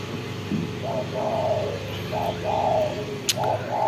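A pet spotted dove coos in a series of soft, low, rounded calls repeated in a rhythmic pattern, close by against a faint background hum with a brief sharp click near the end.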